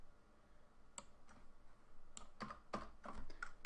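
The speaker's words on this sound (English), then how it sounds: "And I'll type in the name" Someone types a file name on a computer keyboard, a short quiet burst of clicky keystrokes that starts sparse and quickens into a brisk run of taps, with no talking.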